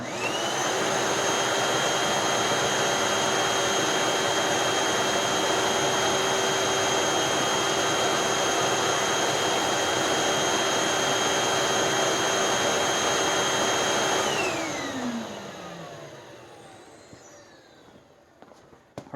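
A Sanitaire EXTEND SC3683D bagged vacuum cleaner runs steadily and loudly during an airflow test, with a constant high whine. Near the end it powers down, and the pitch and volume slide away into quiet.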